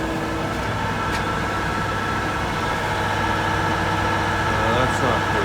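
Industrial blower running at roughly 1100 RPM, a loud, steady mechanical drone with a constant tonal hum that holds unchanged throughout, with a voice faintly present underneath.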